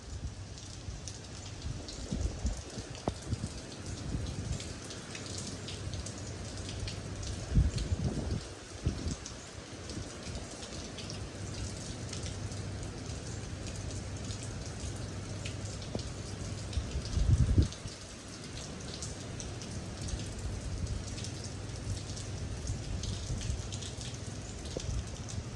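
Hurricane Delta's rain pours down steadily during landfall in Louisiana, a constant hiss of rain on surfaces with a few heavier thumps and bursts from the storm.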